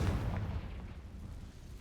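A spell blast in the Hogwarts Legacy video game, a Bombarda or Confringo explosion, bursts out as a deep booming thud that rumbles and fades over about two seconds, with no talk over it.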